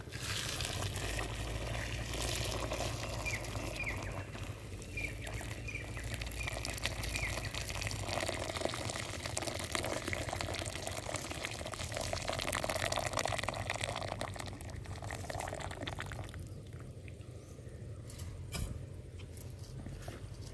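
Dissolved jaggery poured into wheat payasam makes a steady, close, liquid pouring and trickling sound that runs continuously and eases off near the end.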